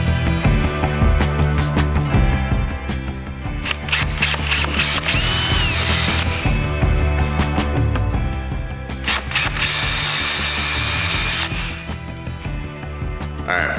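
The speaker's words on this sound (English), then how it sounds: "You need a 1/8 inch drill bit, and we're gonna drill out the holes we just marked." A power drill with a 1/8 inch bit bores holes in plastic for a quick release side panel, whirring in two sustained bursts between pauses.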